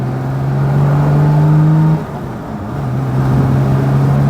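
A Triumph Vitesse 2-Litre six-cylinder car engine under way, a loud, smooth, steady drone close by that briefly drops off as the throttle lifts, then builds back up to a steady pull.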